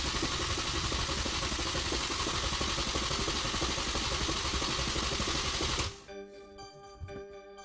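A 2006 Mini Cooper S convertible engine cranks with a steady, fast, rattling churn for about six seconds and does not catch, then cuts off abruptly into near quiet.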